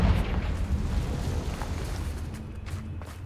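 Confringo spell blast from Hogwarts Legacy: a loud, low rumbling explosion at the start that decays into a sustained booming roar, heard alone without speech.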